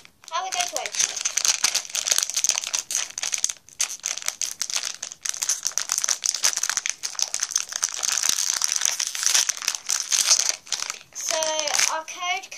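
Crinkling and crumpling of a Moshi Monsters blind pack foil wrapper being opened, dense continuous rustle with a voice speaking over parts of it.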